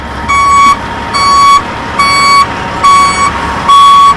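Loud truck reversing alarm beeping in a steady series of about five long electronic tones with short gaps, close by, heard alongside an RV coach hookup with no talk.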